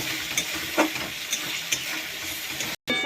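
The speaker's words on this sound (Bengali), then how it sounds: "আদা রসুন বাটা, মশলাটা অনেকক্ষণ ভেজে নেব" Ginger-garlic paste fries in a pan for an okra dish, crackling in a continuous loud sizzle with a few spatula taps and stirring scrapes before a sudden brief cut.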